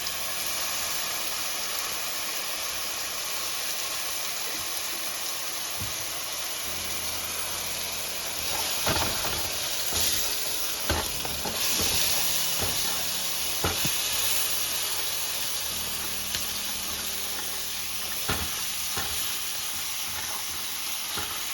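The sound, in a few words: ragu sauce sizzling with fried tomato and garlic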